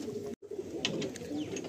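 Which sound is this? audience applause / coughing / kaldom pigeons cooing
kaldom pigeons cooing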